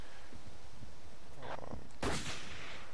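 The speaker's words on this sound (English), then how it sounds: "We're actually getting a couple of shots off as a sniper." Sniper rifle fire in the video game Battlefield 1942, a faint report followed by one loud, sharp close shot with a short echoing tail over quiet background.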